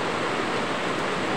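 Heavy rain pouring steadily in the Bacolod City area, a dense, unbroken hiss that stays loud and even throughout, with no voices.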